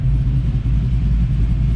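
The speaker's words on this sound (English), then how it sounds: "That's what I call a burnout." A car with a 351 Windsor engine doing a burnout, its engine holding a loud, steady low rumble at high revs throughout, close by and with no voices.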